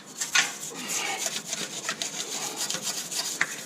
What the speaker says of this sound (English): it's only a soft nylon brush